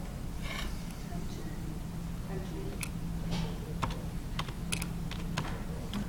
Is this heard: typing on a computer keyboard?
yes